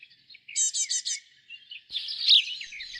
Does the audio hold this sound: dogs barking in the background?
no